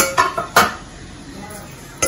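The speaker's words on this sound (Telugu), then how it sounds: "మూత పెట్టేస్తున్నాను" A metal lid set onto an idli steamer holding the idli plate, a few sharp close clanks of metal on metal, one louder clatter near the start and another at the end, with quiet between.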